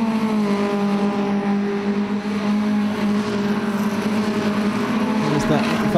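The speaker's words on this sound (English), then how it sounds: "the next car through looks to be, I think, Matt Smith actually." BMW Compact Cup race cars at Donington GP pass by, a steady engine drone with a rising whine near the end, heard under continuous commentary.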